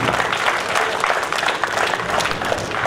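An audience claps together at a computer training class for unemployed young people at a rural digital academy in Mahabubabad, producing dense, steady applause that stays loud and even for the whole stretch, with faint voices mixed in.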